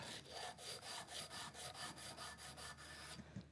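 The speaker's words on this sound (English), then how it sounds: "So what I'm going to do is to sand my surface table." Rhythmic back-and-forth rubbing strokes come from sanding a metal surface table in a motorcycle workshop, about a dozen even, fairly close scraping passes at a steady pace before a couple of light knocks, with no voices.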